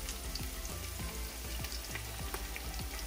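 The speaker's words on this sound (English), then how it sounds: "So let's get these onions in." Onions hit a hot pan and fry for chicken lo mein, giving a steady, close, dense sizzle with crackling pops throughout and no talking.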